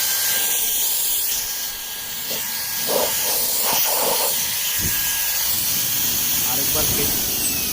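A turbo fan runs at full speed with a loud, steady rushing hiss of air that fills the whole stretch, while a person talks over it.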